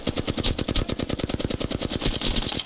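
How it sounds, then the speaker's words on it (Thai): Rapid automatic gunfire from an Apex Legends match, loud, close and continuous, with dense rattling bursts packed together and no pauses across the whole stretch. "มันยิงกันไม่หยุดเลยเนี่ย"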